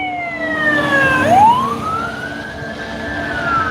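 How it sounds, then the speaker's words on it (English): An ambulance siren wails loud and close, its tone sweeping down sharply then rising into a long steady howl, with no voices over it. "Oh, the ambulance."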